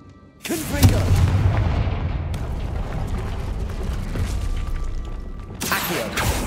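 A Confringo spell blast in the Hogwarts Legacy video game erupts as a loud, booming explosion that rumbles on for several seconds, followed near the end by a second sharp burst.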